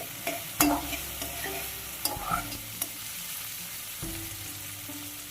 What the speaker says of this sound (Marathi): पुन्हा आता परतून घेतोय